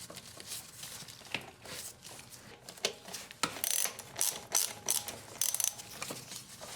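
A hand ratchet clicks in quick bursts while tightening a bolt on a Honda Accord VTEC solenoid, the close metallic pawl ticks coming in short irregular runs.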